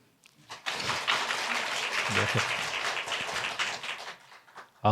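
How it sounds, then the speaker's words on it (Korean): A church congregation claps at an early-morning prayer service, a steady wash of applause that swells quickly, holds for several seconds and then fades, fairly close and with no talking over it. "박수 쳐주셔서 감사합니다"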